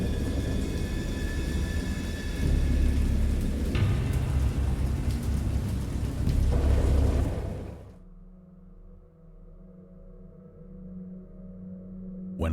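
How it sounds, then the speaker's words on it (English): Heavy rain and rolling thunder from the horror game Dagon, a loud continuous downpour with rumbling booms that cuts off abruptly into a low, quiet drone. "I heard pearls of thunder and other tones which nature utters only in her wildest moods"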